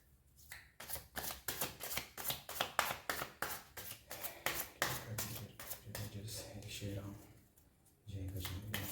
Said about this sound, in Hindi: ठीक है, मैं थोड़े कार्ड्स और ले लेता हूँ।